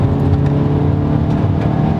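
A 2014 Volkswagen Beetle with a turbocharged engine pulls away smoothly under acceleration, its steady low engine drone and road hum loud and close inside the cabin with no talking.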